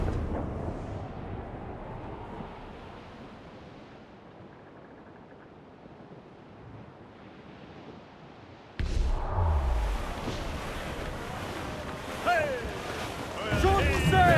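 A squall blows across the sea while sailing in Assassin's Creed IV: Black Flag, with steady wind rush and surf that are soft at first, then suddenly louder and choppier, with creaking and splashing of the ship in rough water.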